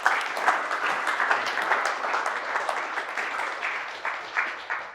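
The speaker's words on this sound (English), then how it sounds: "So give a round of applause for that." A team applauds a company achievement with a steady round of hand clapping from a modest group of people, continuous and fairly close throughout.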